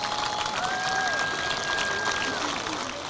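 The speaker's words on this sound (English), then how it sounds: "A smattering of applause." Steady applause spreads across a stadium crowd at an 8-player all-star football game, a continuous wash of clapping under an announcer's voice.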